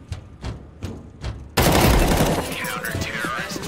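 A few soft thumps, then a sudden dense burst of rapid gunfire erupts and keeps rattling loudly to the end.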